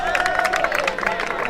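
Crowd at an Australian football match calling out and urging the umpire for a free kick, a steady roar of many voices with scattered shouts and claps, loud and continuous, mixed with a commentator talking.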